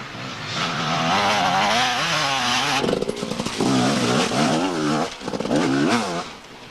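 Gas Gas 250 enduro motorcycle racing in a Welsh two-day enduro, a loud, close two-stroke engine revving and wailing with rising and falling pitch as the rider works through the gears.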